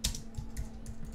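Keys clatter on a computer keyboard while typing in Microsoft Word for Mac, a quiet run of quick, close taps with uneven rhythm and a faint steady hum beneath.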